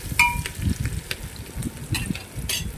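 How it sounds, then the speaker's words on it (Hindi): Chopped onions stirred and fried in a pan for biryani, a soft steady sizzle with light scraping strokes of a spoon against the pan, close and fairly quiet. "इसमें हमने प्याज भी डाल दिया है, इसको हम अच्छे से चला लेंगे"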